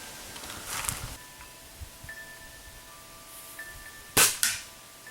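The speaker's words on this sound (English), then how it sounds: "I'm shooting at that coffee pot with the Shadow 640, Gamo Shadow 640" Gamo Shadow 640 pellet gun shooting at a coffee pot, with two sharp, close cracks near the end, a softer snap earlier and faint rustling between them in a quiet outdoor setting.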